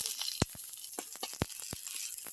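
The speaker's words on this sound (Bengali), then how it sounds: "এবার আমি ওই তেলের ভিতরে পেঁয়াজ কুচি দিয়ে দেবো।" Chopped onions sizzling in hot oil, a bright continuous hiss close up, broken by sharp crackling pops at an irregular rhythm.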